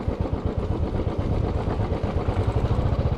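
A motorbike rides an off-road route near Rani Jhari in Chikkamagaluru during the monsoon, its engine a close, steady low rumble with a pulsing throb and some clatter throughout.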